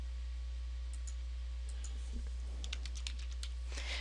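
Quiet keystrokes on a computer keyboard while typing names into a calendar search, a sparse run of soft clicks that becomes a quicker burst toward the end over a steady low hum.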